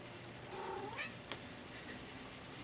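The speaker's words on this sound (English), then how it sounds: "Hi, kitty." A cat gives a single rising meow nearby, quiet against a hushed indoor background, followed by a brief sharp click and then stillness.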